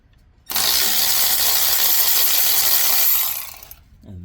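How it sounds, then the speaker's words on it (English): A Milwaukee M12 cordless ratchet loosens engine mount nuts on a 2012 Kia Soul 2.0L, giving one loud, steady whir of about three seconds at close range, then a brief quieter tail. "We'll use our M12 Milwaukee ratchet. I loosened the bolts and nuts already, so we'll start by loosening the nuts just like so."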